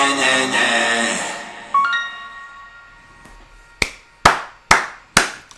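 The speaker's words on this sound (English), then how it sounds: "I can do nothing but applaud that" Four sharp hand claps ring out close and distinct in a slow, even rhythm, following a fading musical tone with no voices over them.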